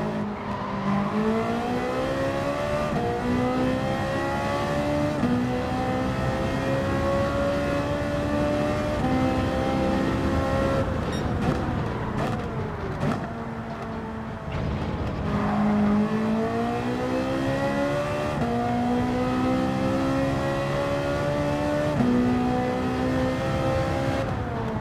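A Ferrari 458 Italia GT3 racing engine in Gran Turismo 7 revs hard and continuously, its loud, close, high-pitched note climbing and dropping through repeated gear changes, with occasional brief tire noise and no voices.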